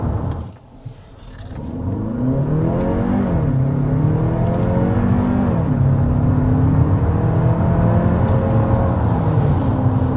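A 2026 Hyundai Palisade Hybrid pulls away from a standstill, its electric motor and turbocharged engine rising in a steady, building whir and engine drone heard from inside the cabin, loud and continuous without talk.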